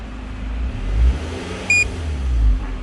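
A car engine running on LPG gas idles with a steady low rumble at close range, a short electronic beep from the gas switch sounding partway through, with no talking.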